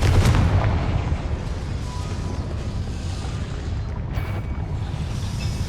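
A Confringo spell explodes in Hogwarts Legacy with a heavy booming blast at the start, then a long low rumbling roar that slowly fades.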